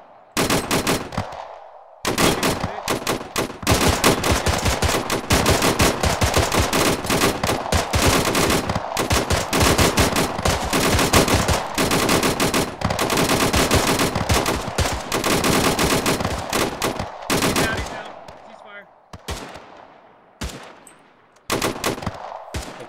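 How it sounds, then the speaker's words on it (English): Sustained automatic gunfire during an assault on a grocery store in ARMA 3 on Chernarus near Zelenogorsk, dense rapid bursts loud and close for most of the stretch, with brief pauses and a final burst after a gap. "Are we shooting at the grocery store or what's up?"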